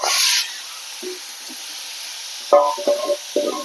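A sharp hiss of radish hitting hot oil with shallots, then a low steady sizzle with a few clinks and scrapes of stirring nearby.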